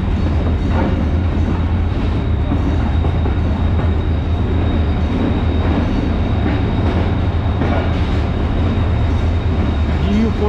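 Train with a locomotive at a station in Pakistan on the Karachi–Kotri route, a steady loud rumbling drone of engine and rail noise, with someone talking over it.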